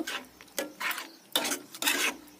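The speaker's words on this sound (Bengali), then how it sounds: "মশলাগুলো খুব ভালো করে কষিয়ে নেব" A spatula stir-fries turmeric, cumin and coriander powders in hot oil, making four distinct rasping scrapes across the pan at an even rhythm, close and fairly loud, with a faint sizzle between strokes.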